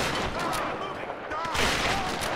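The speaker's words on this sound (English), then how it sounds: "Stop fucking shooting me" Enemy gunfire in Tomb Raider, a dense stretch of loud overlapping shots and explosive bursts at close range, with someone talking over the combat.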